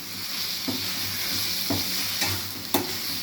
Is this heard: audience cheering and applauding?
no